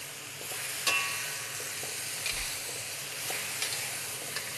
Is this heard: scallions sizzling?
yes